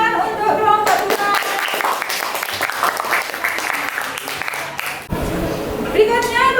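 A classroom of students applauds a presenting group, a dense burst of clapping lasting several seconds that fades out, with talking over the start and end.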